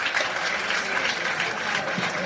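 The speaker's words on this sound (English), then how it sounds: "How about a nice round of applause?" A live audience at a 1983 comedy stage show claps in a dense, steady burst of applause that fills the whole moment without a break.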